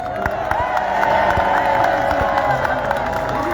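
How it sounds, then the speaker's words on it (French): A large crowd at a political rally for Maurice Kamto in Cameroon claps and cheers loudly, dense applause with whoops and shouts filling the space continuously. "que je vous demande d'applaudir très fort."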